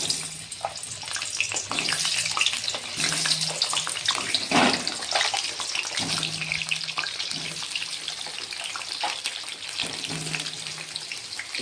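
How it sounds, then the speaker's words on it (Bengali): Three cut potatoes frying in hot oil for a Bengali mutton and potato curry, giving a loud, steady, close crackling sizzle that runs without a break and with no talk. "তেল গরম হয়ে গেছে আমি আলুগুলো ভেজে নেবো"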